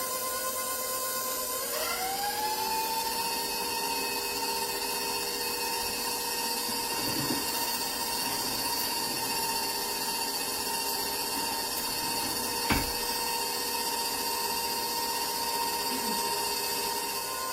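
An electric mixer beats cake ingredients in a home kitchen, spinning up after a couple of seconds into a steady high whine that holds, with a brief knock near the end and no talking.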